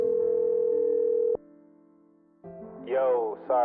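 A phone call rings out with steady electronic tones, pauses, then cuts to voicemail, where a recorded greeting begins.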